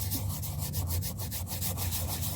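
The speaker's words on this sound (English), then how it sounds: "I want to try and scrape these a little bit." Carbon being scraped off engine pistons during a 1987 Trans Am LS swap: rhythmic back-and-forth rasping strokes, about a dozen in quick, even succession, close and fairly loud, with no voices.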